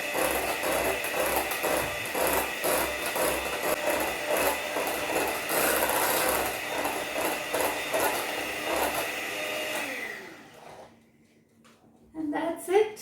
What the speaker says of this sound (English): Scrape the sides down once again.